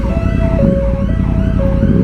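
Ambulance siren wailing on the road, a steady tone that steps up and down repeatedly over low engine and traffic rumble, fairly loud and close.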